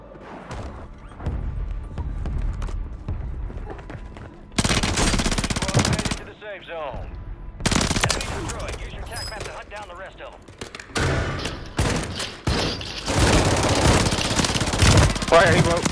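Shotgun fire in a multiplayer shooter video game: heavy blasts arrive in bursts between quieter stretches of game sounds, loud and close, with players talking over the action.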